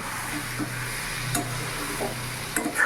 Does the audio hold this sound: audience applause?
no